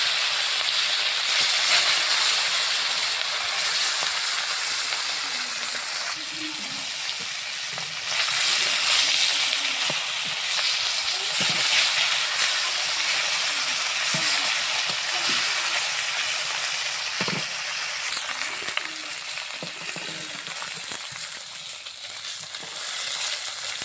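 Onion sizzling steadily in hot oil left over from frying fish, a continuous soft hiss of frying with occasional faint clinks of stirring.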